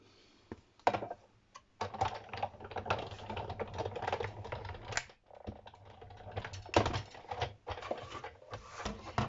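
Scissors snip through paper, cutting out a triangle for a handmade banknote-holder card: a steady run of crisp, close cuts with brief pauses between strokes, no talking.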